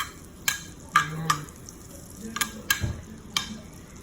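Garlic dropped into melted butter in a hot pan for a steak sizzles in soft bursts, with a few sharp clinks and stirring scrapes rising over a low, steady frying hiss.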